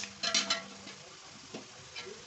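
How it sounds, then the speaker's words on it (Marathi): Peanuts dry-roasting in a pan for chivda give a soft sizzle with a few louder stirring scrapes early on and later, steady and close with no talk. "आता शेंगदाणे एकदम छान खरपूस भाजत आलेले आहेत."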